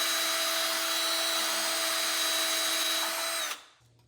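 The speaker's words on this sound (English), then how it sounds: "the best way I found to do that is drill it out, starting with a small drill bit" A power drill whines steadily at high pitch for several seconds, drilling out a seized ABS sensor on a first-generation Honda Fit, then abruptly stops into near silence.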